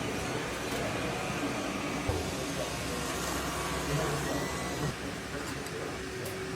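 A shot blasting machine loaded with fine 3 mm steel shot runs continuously, a dense hissing, rattling industrial roar with low rumble, steady and fairly close throughout.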